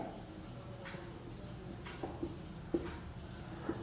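A pen scratches steadily across paper while a maths proof about root 2 being irrational is written out, close and faint, with soft taps as strokes land.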